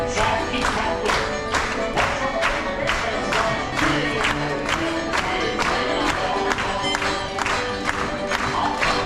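A theater audience at the Country Bear Jamboree claps and stomps along in a steady, rhythmic beat under music, with crowd noise and cheering mixed in throughout.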